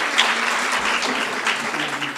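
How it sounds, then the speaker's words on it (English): An audience at a school event claps for a student author, a dense burst of applause from a room full of people, steady and fairly close for the whole stretch. "Now, he wants you to clap for him."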